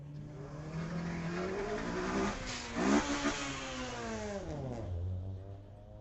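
A Honda street car accelerates hard down a drag strip at a Friday night street-legal drags event, its engine note climbing steadily through the gears with a brief shift dip and a sustained, fairly close roar fading toward the end.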